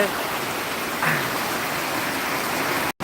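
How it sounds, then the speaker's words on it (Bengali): Heavy monsoon rain pours steadily in Bangladesh, heard from a veranda as a dense, continuous hiss that stays loud and even throughout, with a brief faint voice-like sound partway and a short dropout near the end. "বাংলাদেশের প্রচণ্ড বৃষ্টি হচ্ছে"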